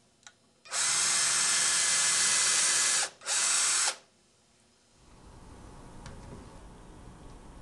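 A power drill runs at speed in two loud bursts, about two and a half seconds and then under a second, with a short pause between, then cuts off to a quiet room.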